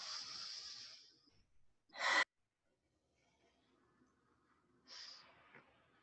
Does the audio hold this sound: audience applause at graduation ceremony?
no